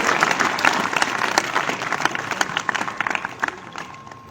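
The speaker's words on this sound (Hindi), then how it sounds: "एक बार जोरदार तालियां" Students and staff at a boys' school inter-house competition closing give a race winner loud, dense applause that fades gradually toward the end.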